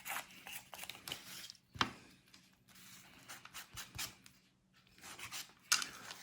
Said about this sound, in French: Il est en train de poncer, là.